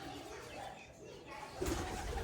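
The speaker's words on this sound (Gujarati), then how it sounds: "કબૂતર અહીંયા બેસી જાય છે, એમનું ઘર બનાવે છે" Low, soft pigeon coos over a faint background hum, growing a little louder near the end.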